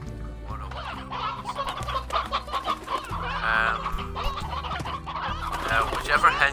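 Several hens cluck and squawk in the game Slime Rancher, continuous busy clucking in overlapping bursts with a steady musical tone underneath, fairly loud and close throughout.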